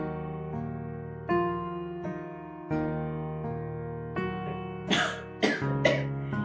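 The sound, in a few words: older man coughing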